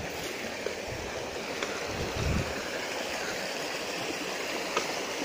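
A river flowing down from Mount Lawu toward Alas Ketonggo rushes in a steady broadband wash, continuous and moderately loud, with faint ticks and a low thump partway through.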